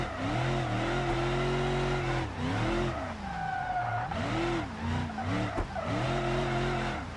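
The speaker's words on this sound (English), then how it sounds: "And I can kind of drift a little bit." A limo drifts in a car simulator video game, its tires squealing in long, wavering, pitched howls that rise and fall over the engine drone, with brief breaks between slides and no talk.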